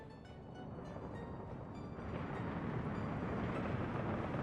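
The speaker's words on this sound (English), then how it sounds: "now the train did leave the station" A train pulls out of a station in the city-building game Workers & Resources: Soviet Republic, a steady low rumble that grows louder and fuller about halfway through and keeps rolling to the end.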